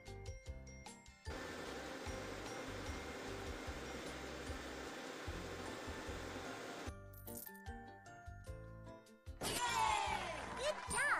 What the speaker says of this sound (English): Vacuum here too.